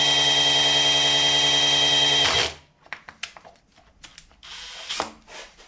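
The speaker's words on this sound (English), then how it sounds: "I'm gonna hook up my drill to that, and then we're gonna prime this system." An electric drill spins to prime a small-block V8 oil pump system, a loud steady whine for about two seconds that cuts off abruptly, followed by scattered clicks and rattles.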